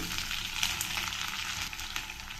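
Sliced onions fry with dals, mustard seeds, cumin and curry leaves for upma, giving a steady, bright hiss that stays close and even throughout with no speech.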